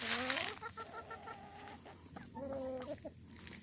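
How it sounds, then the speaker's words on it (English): Roosters cluck and give short tonal calls nearby, a few overlapping vocalizations in quick succession. "that one and this one look to be roosters"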